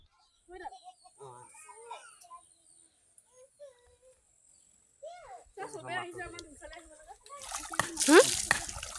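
A cow being bathed in a river in rural Assam, with intermittent water splashes and sloshing near the end, interspersed with someone talking and birds and insects in the background.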